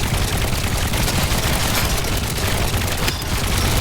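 Mech guns blasting in the vehicle-building game Trailmakers, a dense, continuous roar of rapid gunfire that stays loud and unbroken throughout with no pauses.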